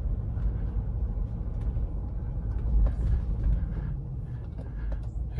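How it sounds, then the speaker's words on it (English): A 4x4 SUV engine running on a test drive of a used car, heard from inside as a steady low rumble with slight surges, continuous and fairly close, with no talking. "This is where I stop talking so I can hear the vehicle."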